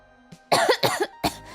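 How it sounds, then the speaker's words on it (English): Someone with a bad cold coughing, a short burst of three or four harsh, chesty coughs in quick succession, close and fairly loud against a quiet room. "I've been coughing because I got hit with probably one of the worst colds I have ever experienced."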